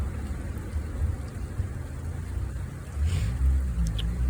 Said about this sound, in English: Now my camera picks up the heavy rainfall.